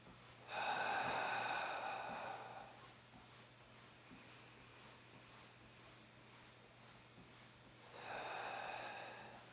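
Two long bursts of breathy, snorting exhalations during a moving breathing exercise, separated by several seconds of quiet room hiss; each burst is loud and near, with no talk.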